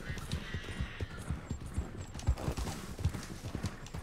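A horse gallops in the video game Red Dead Online, its hooves pounding in a fast, steady rhythm, close and loud, with faint bits of speech in the background.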